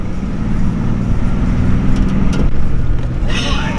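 Ford Ranger prerunner truck driving over dips with a steady low engine drone and rumbling throughout, a few jolts and rattles toward the end, and voices talking over it.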